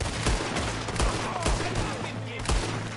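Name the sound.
gunfire in the video game Red Dead Redemption 2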